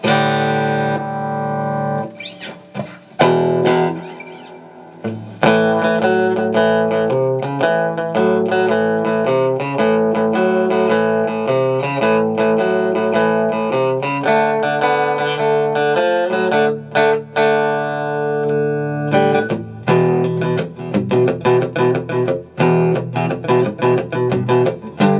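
Heavily distorted electric guitar, a Fender Player Series Stratocaster, plays chords and riffs, loud and sustained, with brief pauses between phrases.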